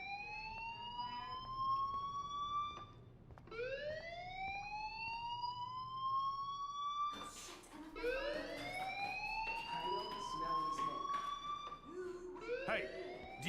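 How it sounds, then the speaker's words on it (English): Wailing school fire alarm in the video game Life is Strange, a rising electronic tone that repeats in long sweeps, loud and continuous, with a brief gap before the cycles resume. "Hey, do you hear that fire alarm?"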